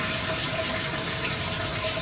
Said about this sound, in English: Flush your toilet. Hold the button, hold the lever.